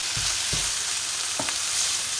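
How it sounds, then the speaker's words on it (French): Lardons and onion fry in a pan, giving a steady bright sizzle up close, with a few soft stirring scrapes and no voices. "Et là on fait cuire les lardons"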